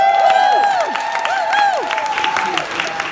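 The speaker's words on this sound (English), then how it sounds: "Applause." A studio audience at a live New York TV talk show taping breaks into sustained applause, mixed with whoops and cheering voices throughout.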